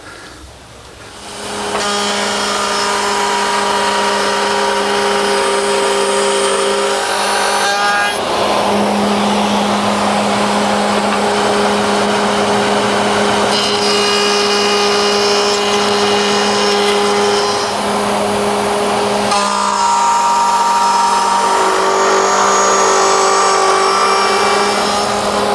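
A router bit cuts a groove into a wooden desk leg with a loud, sustained high-pitched whine, and the pitch and roughness shift as the leg is pushed along the bit.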